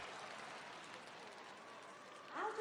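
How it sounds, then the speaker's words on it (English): Crowd applause fills a speed skating arena in Beijing during a World Cup session, greeting an Olympic champion on the ice; a steady, moderately faint wash of clapping that swells briefly near the end. "Big applause for the Olympic champion on this ice in Beijing."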